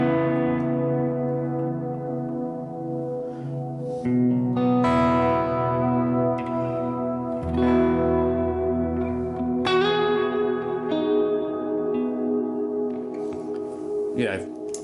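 Electric guitar played through a Line 6 Helix Ventoux amp model with plate reverb and transistor tape echo, sustained chords and notes ringing out with a lush wash of repeats, fairly loud and alone.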